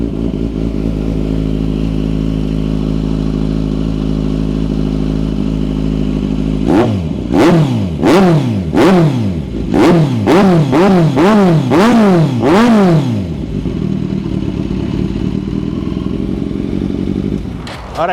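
A 2013 Kawasaki Z1000 with an aftermarket exhaust idles loudly up close, then a run of sharp throttle blips rises and falls in quick succession before it settles back to a steady, throaty idle.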